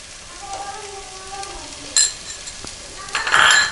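Spiced chicken roast masala for Kerala chicken perattu, seasoned with pepper powder, fennel powder and salt, sautés in a pan: a steady low sizzle with occasional stirring scrapes, swelling into a louder, brighter hiss toward the end.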